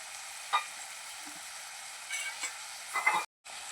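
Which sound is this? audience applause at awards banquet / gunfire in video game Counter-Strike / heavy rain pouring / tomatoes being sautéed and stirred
tomatoes being sautéed and stirred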